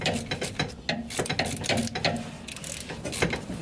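A ratchet wrench turning on the rear suspension of a Datsun Z during a coilover and rear disc brake conversion gives a steady run of close, rapid metallic clicks over a busy workshop background.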